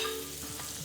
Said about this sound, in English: I've been heating up this pan, so we're gonna get a little butter